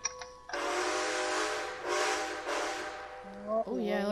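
A steam train whistle in Red Dead Redemption 2, a loud sustained harmonic blast that swells and dips over several seconds and then ends in a shorter wavering toot.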